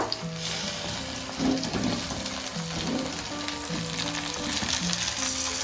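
A few chillies fry in a pan for fried rice, giving a continuous crackling sizzle at moderate level, with occasional stirring taps and no talk.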